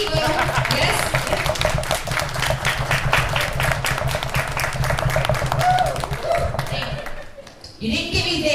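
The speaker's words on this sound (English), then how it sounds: "Do you think you can clap again for me to give me a little energy?" An audience at a comedy show bursts into sustained, dense clapping that fills the room, then thins and fades before a brief final swell.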